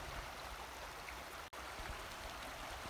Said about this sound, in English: As you can see, it's beginning to trickle slower through the ice.